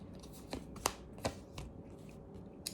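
Tarot cards being shuffled: a few soft, separate riffling and slapping bursts, fairly quiet and close, with no talking.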